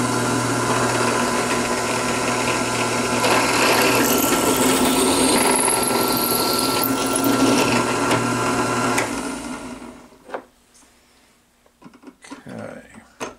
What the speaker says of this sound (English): I'm going to drill my 1/4 inch hole.